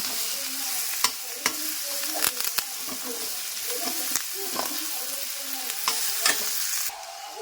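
A spoon stirs a jaggery mixture in a hot pan, scraping rhythmically with light sizzling underneath and sharp clinks of metal at intervals, close and steady.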